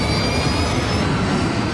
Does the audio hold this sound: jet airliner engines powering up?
yes